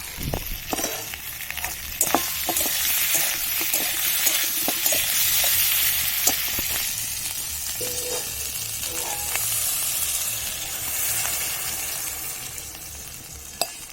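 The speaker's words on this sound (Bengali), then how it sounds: "কষানো হয়ে গেছে, এবার আমি জল দিয়ে দেব।" Paneer and thick-cut potato curry sizzles and bubbles in a pan as water goes in and a spatula stirs, scraping taps scattered through a steady hiss, close and fairly loud.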